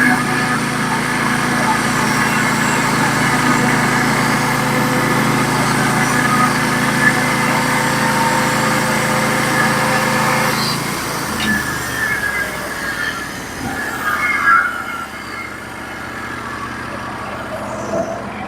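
A Norwood HD36v2 sawmill cuts a slab from a large pine log, giving a steady loud mechanical whine and engine drone for about ten seconds that then drops away to quieter rattling and clunks.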